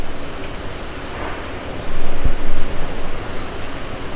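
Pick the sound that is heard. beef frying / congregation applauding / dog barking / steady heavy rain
steady heavy rain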